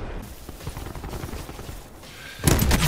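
Rapid gunfire in Black Ops 4, a steady stream of shots through the clip that swells into a louder, denser burst near the end.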